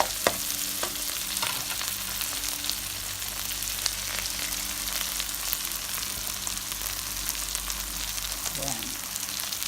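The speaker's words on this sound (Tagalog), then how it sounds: "Then, I put the tomatoes." Tomatoes drop into a pan of frying garlic and onion for pork picadillo, setting off a steady close sizzle with occasional stirring scrapes and clicks.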